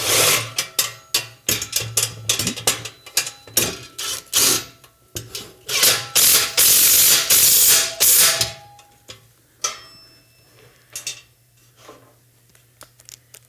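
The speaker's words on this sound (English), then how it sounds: "Get the wrench on there, and we'll drive it in." A ratchet wrench drives a bolt into a chassis during assembly, giving rapid, close, loud clicking bursts in an irregular rhythm that thin out into a few sparse ticks toward the end.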